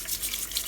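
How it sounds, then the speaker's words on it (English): Running water rinses rusty metal items during rust removal with Deox C, a steady close splashing hiss that swells and dips slightly, with no voices. "give them a wee rinse with water and an agitation with"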